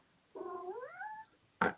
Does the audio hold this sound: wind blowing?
no